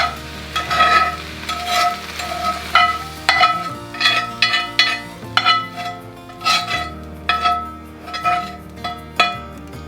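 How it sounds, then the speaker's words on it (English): Onions and garlic go into tomatoes in a big stock pot, with repeated clinks and scrapes of a spoon against metal and a soft background sizzle in an uneven rhythm, and no talk. "We're gonna add the onions and garlic to our tomatoes."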